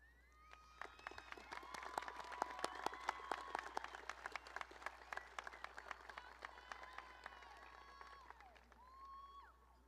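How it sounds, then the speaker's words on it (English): Sustained applause from graduates and a crowd at a high school graduation ceremony, dense rapid clapping swelling early and tapering off near the end, heard from a distance in a large hall. "please stand and applaud to recognize your family and friends in attendance today"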